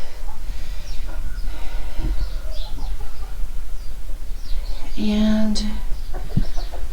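Chickens cluck and squawk inside a backyard coop being cleaned, scattered calls over a steady low background, one louder squawk near the end.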